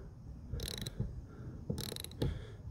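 A socket ratchet works a 13 mm nut on a car's rear wiper arm, two short bursts of rapid close clicking with a quieter gap between them.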